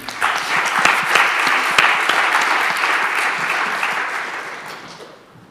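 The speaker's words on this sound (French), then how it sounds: "on vous applaudit pour cette intervention" Applause from an audience in a lecture hall after a talk on art and culture in the digital age, a steady wash of many hands clapping that fades out toward the end.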